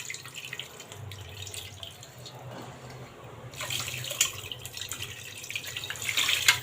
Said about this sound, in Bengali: এখন আমি পরিমাণ মতো পানি দিয়ে দিব মাংসটা সিদ্ধ হওয়ার জন্য